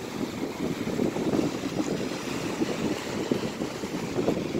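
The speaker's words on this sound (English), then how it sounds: "How those waves are just coming in right over there." Sea waves rolling onto a shore in Puerto Rico, a continuous broadband wash with gentle surges, mixed with wind buffeting the microphone; no voices.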